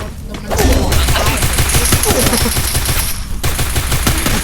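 Dense rapid gunfire bursts from the Free Fire battle royale game, with continuous shots layered over game noise and a voice talking throughout.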